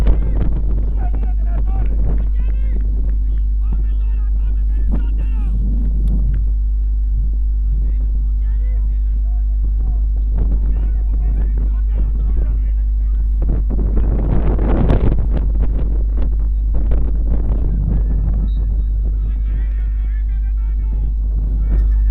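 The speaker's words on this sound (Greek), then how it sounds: "Πως μπορείτε να ακούσετε κι εσείς, ο αέρας όσο πάει και δυναμώνει." Strong, strengthening wind buffets the microphone in a constant low roar throughout an outdoor football match, while a commentator talks over it and crowd noise rises and falls.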